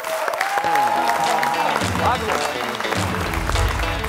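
A television studio audience claps, with a broad wash of applause mixed with tonal, music-like sounds and voices.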